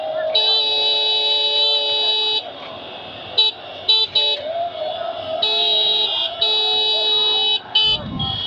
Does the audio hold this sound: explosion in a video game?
no